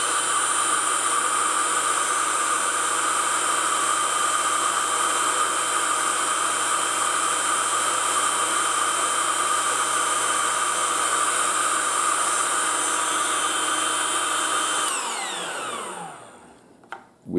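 A wooden model steam engine runs on hose-fed air after being switched on, a steady loud hiss and whir with constant tones that holds for about fifteen seconds, then winds down and stops.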